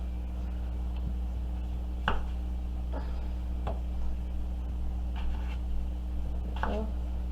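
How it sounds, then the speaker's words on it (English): A knife dices a potato for a breakfast hash, giving sparse, crisp chops against a cutting board every second or so, fairly faint over a steady low hum. "So we just dicing the potato."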